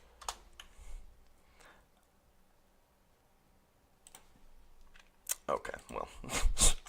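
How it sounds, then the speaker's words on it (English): Typing on a computer keyboard for a Google search: sparse soft key clicks at first, then a quicker, louder burst of keystrokes near the end, with a voice in the background. "Let's just type in real quick"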